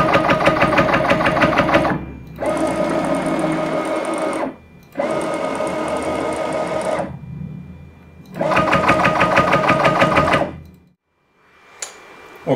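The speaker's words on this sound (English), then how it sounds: "I had some issues with the Y axis that it would bind up and make a noise" Sainsmart Genmitsu PROVerXL 4030 V2 desktop CNC machine with a binding Y axis, giving loud buzzing, whining motor runs in three long bursts separated by short pauses, then a brief click near the end.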